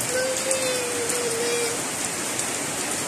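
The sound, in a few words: rain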